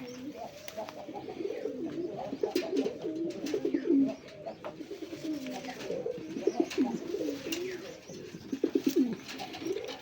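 A male king pigeon coos repeatedly and loudly at close range, its deep rolling calls running continuously, with another pigeon kept nearby.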